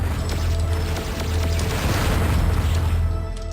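A missile blast destroying a driller robot in the video game Descent, a loud, sustained booming rumble with crackling debris that fills the whole moment without a break.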